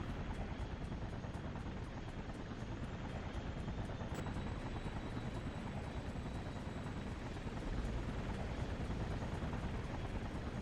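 Helicopter in the superhero game Infamous, a steady loud rotor and engine roar held close and unbroken throughout, with no voices.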